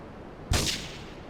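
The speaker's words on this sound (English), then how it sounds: "investigate reports of gunfire and explosions" Gunfire and explosions in the video game GTA 3: a single sharp, heavy blast bursts out midway and decays over a fraction of a second against a quiet background.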